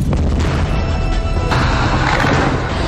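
A heavy, sustained explosion blast rumbles loud and continuous for three seconds, a dense broadband roar with a slight renewed surge midway and no voices.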